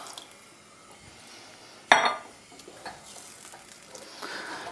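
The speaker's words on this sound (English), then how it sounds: "Cover the lentils with some water." Water poured over lentils in a pan with a little mirin, a short splashy burst of liquid that fades quickly into a quiet background.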